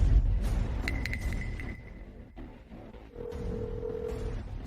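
A telephone call being placed, with short dialing tones followed by a held ringing tone, set against a dramatic scene's low background rumble; no one speaks.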